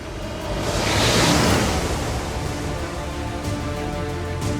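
Stormy sea waves roll and crash around a rescue vessel in cold open water, a loud washing surge swelling then easing into a steady churning roar, with no voices.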